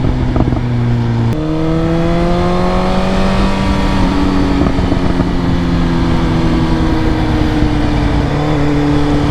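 Loud, close revving from a 2022 BMW S1000R M Package motorcycle fitted with Arrow headers and an Akrapovic exhaust. A sharp blip rises into a sustained high rev that slowly sinks as the note falls.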